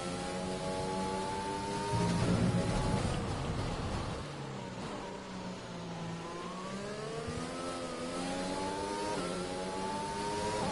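A Formula 1 car engine screams at high revs around the Brazilian Grand Prix track in the F1 2020 racing game, rising and falling through gear changes, steady and close with other cars buzzing faintly nearby.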